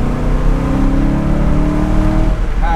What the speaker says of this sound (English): you can definitely hear the exhaust system a lot more